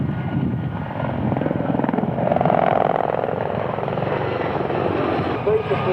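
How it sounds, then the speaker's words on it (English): Helicopters of the Blue Eagles display team performing at the 1998 Middle Wallop airshow, a loud, sustained rotor and engine drone that swells in the middle, with a commentator talking over it. "what better way to start than with the world's greatest helicopter display team"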